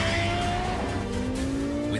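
A Lexus LFA supercar with the Nürburgring package, driven hard on the Nürburgring circuit, its engine howling loud and close as the pitch climbs steadily, with tire squeal through a corner, alone without talk.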